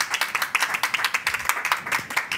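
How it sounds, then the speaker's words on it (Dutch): Audience applause at a public talk, a small group clapping in quick irregular bursts, close and fairly loud, filling the short stretch without voices. "Een hartelijk applaus"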